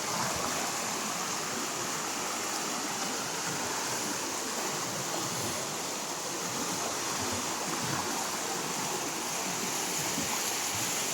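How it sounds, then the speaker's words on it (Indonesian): A river runs right behind a flood-damaged house in the village of Taman Sari, Batang Toru, making a steady broadband rush of flowing water with no pauses. "Sudah langsung aliran sungai itu."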